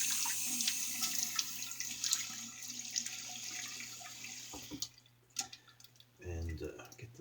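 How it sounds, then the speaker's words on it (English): Tap water runs and splashes into a sink as a man wets his face before shaving, a steady hiss with scattered drips and splashes, then a brief low gurgle near the end. "Let me wet my face a little."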